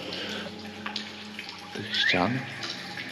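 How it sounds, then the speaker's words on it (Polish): Water leaking through the ceiling of an underground fortification bunker, streaming and splashing steadily with sink-like running sounds, while someone speaks over it. "Tu widać, jak nam pięknie woda leci."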